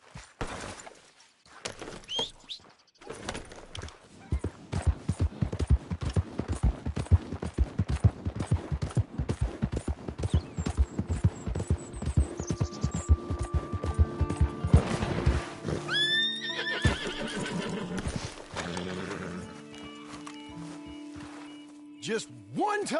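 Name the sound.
horse neighing and hooves, video game Red Dead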